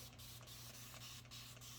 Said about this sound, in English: you just want to give it a liberal amount of spray